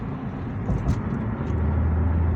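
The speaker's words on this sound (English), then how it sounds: "I just went into fifth gear, guys, and I'm gonna go into sixth gear" 2006 Acura TL with a six-speed manual, heard from inside while driving: a steady low engine and road rumble that surges slightly as the car shifts into fifth gear.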